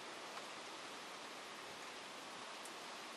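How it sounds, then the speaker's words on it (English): Steady, even hiss of heavy storm rain pouring down over a backyard, a dense continuous wash with no pauses and no voices, heard at a moderate distance. "All this rain, crazy weather."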